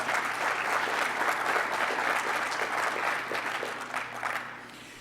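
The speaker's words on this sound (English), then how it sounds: "but please give them a round of applause." Audience applause for quiz winners at a cardiothoracic surgery meeting's award session: dense, steady clapping from a large room that holds throughout and softens slightly toward the end.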